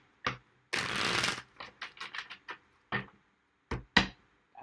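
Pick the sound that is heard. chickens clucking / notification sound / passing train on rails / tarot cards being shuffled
tarot cards being shuffled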